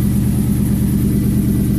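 A 2001 Ford Mustang with a freshly swapped V8 runs steadily, its low, even engine drone continuous and close with no talking over it.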